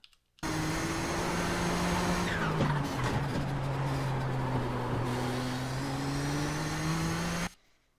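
A race car in the iRacing sim game at Virginia International Raceway drones loudly and continuously for about seven seconds, its engine pitch dipping under braking into a corner and rising again, with no talk.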